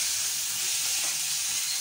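Chicken frying with ginger and garlic for a chicken tikka pizza topping, a dense, continuous close-up sizzle without pauses.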